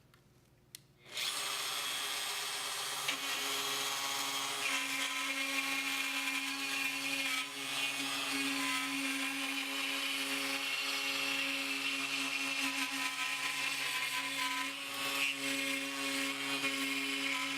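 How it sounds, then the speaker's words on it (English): A router with a drill bit makes a final cut at set depth, its high whine starting abruptly after a second of quiet and holding loud and steady to the end. "Now I've already adjusted the depth of the router now, so we're going to make our final cut."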